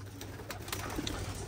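Racing pigeons in a loft coo softly in low, rolling murmurs over a noisy, hissy background, with a few faint bird sounds and no talk.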